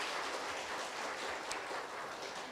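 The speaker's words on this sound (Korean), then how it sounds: "큰 박수 부탁드립니다" An audience applauds to welcome guests at a book concert, the clapping dense, steady and broad throughout with no voices over it.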